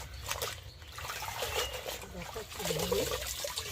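Leafy greens rinsed by hand in water, a soft, close trickling and sloshing that continues under a woman's speech.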